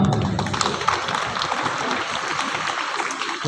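Crowd clapping at a Karam festival gathering, a continuous, dense wash of applause held at a steady level throughout, with a faint voice underneath.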